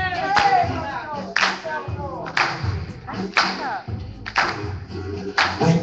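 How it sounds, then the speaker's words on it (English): Worshippers at a youth back-to-school church service clap their hands in slow, regular unison, roughly one sharp clap per second, while a voice carries on over the beat. "Come on, just begin to just clap."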